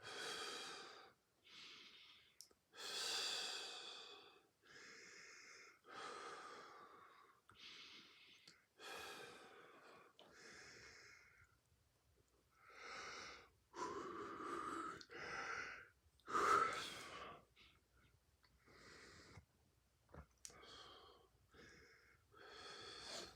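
Slow, deep breathing from a kundalini yoga class: long inhales and exhales repeat steadily, close and fairly loud, with no talking over them.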